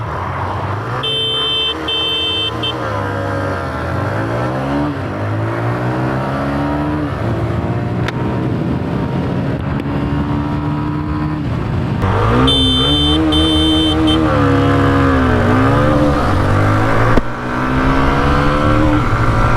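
A Hero Xtreme 125R and a TVS Raider 125, both 125cc motorcycles, accelerate hard side by side in a road drag race. Engine notes rise and fall in pitch through repeated gear changes, loud and sustained, with faint electronic beeps at times.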